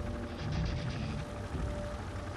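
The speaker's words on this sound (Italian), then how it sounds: "Elicottero, elicottero." Helicopter in the video game Tom Clancy's EndWar: a steady, close rotor and engine roar with a dense whirring texture, holding at a constant level for a couple of seconds, with no voices.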